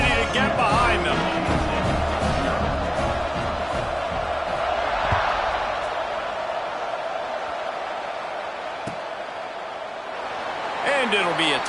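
A football stadium crowd at an MSU versus Iowa game roars at kickoff, a broad sustained cheer swelling and easing under continuous commentary.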